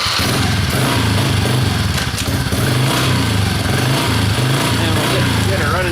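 Dirt bike engine idling and rumbling steadily in first gear on a cold start, a low, continuous throbbing drone that stays loud and close throughout with slight variations in pitch.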